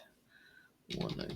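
Typing on a computer keyboard: a quick close burst of key clicks in the last half-second, after a quiet stretch with faint tones.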